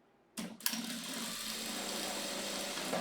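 A sewing machine starts up and runs steadily, stitching a wide seam along fabric for a basket-shaped pencil case, a continuous close whirring hum with no talk.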